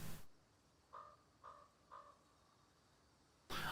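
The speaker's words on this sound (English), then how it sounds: "I just heard the sound of a bird. That was in the real world." Three distinct crow caws heard outdoors in the real world, evenly spaced about half a second apart, faint and somewhat distant against quiet background.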